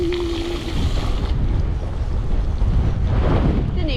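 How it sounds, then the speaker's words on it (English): Wind buffets the microphone on a rainy coastal bike ride, a continuous loud rumbling roar with gusty surges and no talking. "Did it just get windy again?"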